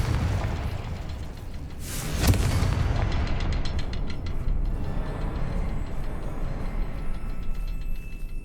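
In Hogwarts Legacy, the Confringo blasting spell detonates with one loud, sharp explosion, followed by a long rumbling decay and a few crackling tail pops, with no talk.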